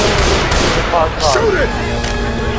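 Rapid gunfire from Left 4 Dead 2 crackles loudly through the whole stretch, with game sound effects and people talking over it.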